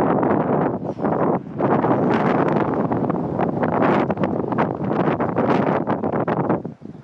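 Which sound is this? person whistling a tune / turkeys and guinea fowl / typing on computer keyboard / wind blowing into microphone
wind blowing into microphone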